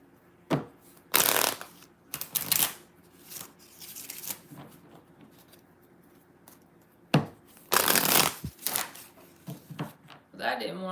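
A deck of tarot cards is shuffled in bursts of crisp riffling, with a pause between two main runs and some quieter handling of the cards.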